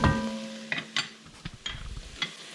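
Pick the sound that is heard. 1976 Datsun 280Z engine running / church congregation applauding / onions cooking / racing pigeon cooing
onions cooking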